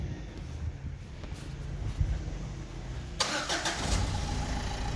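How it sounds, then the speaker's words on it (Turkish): A Renault Clio 4 car engine cranks and catches with a sudden loud start after a few seconds of low background rumble, then settles into a steady, close idle. "Arabayı çalıştıralım bir."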